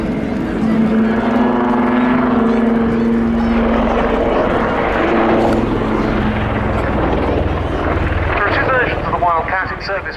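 A Wildcat helicopter hovers at the RAF Cosford airshow, its rotor and engine making a loud, continuous throbbing roar that dominates throughout, with a commentator's voice over a public address underneath.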